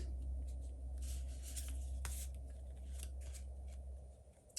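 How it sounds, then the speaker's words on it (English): A deck of oracle cards is drop-shuffled by hand, heard as a series of soft, close papery slaps and riffles in quick bursts against a quiet room. "you could just do like a drop shuffle like that, so you don't ruin your cards"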